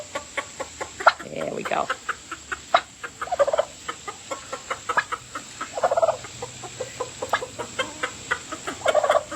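Chickens cluck steadily in a rapid rhythmic series of short clucks, with occasional louder calls mixed in and a person speaking briefly.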